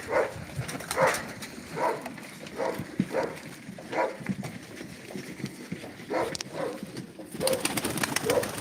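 Pigeons coo at a live auction of game pigeons, a series of soft, throaty coos repeating at a steady pace, fairly close, with faint shuffling between the calls.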